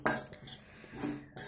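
A spoon scrapes and clinks against a pan while mixing chivda (flattened rice with peas and lemon juice), a few short metallic strokes with brief pauses between them, close and quiet.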